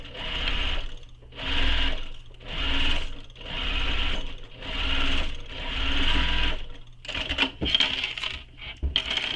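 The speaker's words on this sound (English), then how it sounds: "So I'm going to sew this with the seam allowance given in the pattern." A sewing machine stitches a handbag seam in five steady, rhythmic whirring runs with brief pauses between, ending in lighter clicks and rattles as the fabric is handled, close and clear with no talking.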